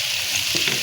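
Onions frying in a pan until golden brown, giving a loud, steady, close hiss of sizzling oil with faint stirring scrapes and no voices.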